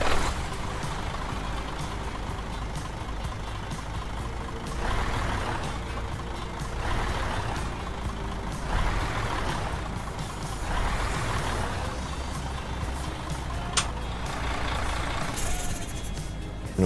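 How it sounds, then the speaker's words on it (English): Mercedes NG 1632 truck engine idling in Euro Truck Simulator 2, heard from outside: a steady low diesel rumble with periodic hissing air bursts, loud and continuous, no talk. "let's fire it up so you guys and girls can have a listen."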